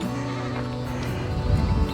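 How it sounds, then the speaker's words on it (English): Goats bleating nearby, a wavering cry followed by a couple of louder calls toward the end, over outdoor background noise. "The goats were very interested in us."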